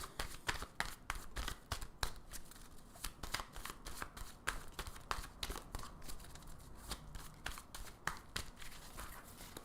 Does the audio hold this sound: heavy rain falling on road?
no